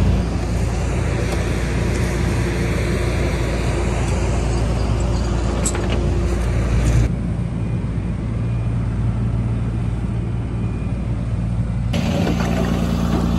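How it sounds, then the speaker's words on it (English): A tow truck backs in with a loud, continuous diesel rumble and road noise up close, the engine tone shifting partway through with a brief abrupt drop near the end. "Tow truck is backing in."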